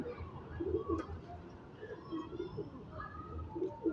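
Pigeons from a star pigeon flock coo in low, repeated murmurs, fairly close, mixed with a few faint chirps and steady background noise.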